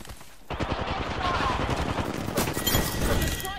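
Gunfire in a shooter video game during a fight around a house: dense, rapid automatic bursts roll almost continuously, loud and close, with a player's voice faintly mixed in.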